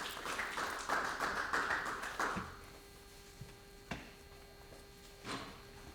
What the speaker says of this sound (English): Coach McKee and the Scott County Cardinal, let's give them a round of applause.